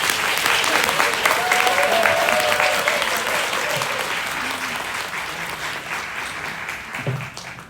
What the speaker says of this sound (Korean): 우리 문용재 교수님을 좀 큰 박수로 모시겠습니다